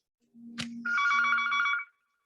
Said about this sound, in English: Oh, and then the phone rang.